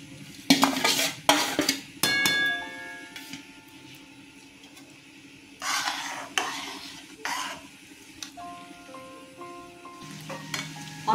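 Utensils scrape and clink against a pot while vermicelli is stirred into milk with ghee, in several short bursts over quiet steady background, no talking.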